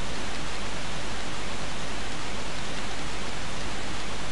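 Steady, dense rain hiss in the video game Tomb Raider 3, constant and fairly loud throughout with no other sounds.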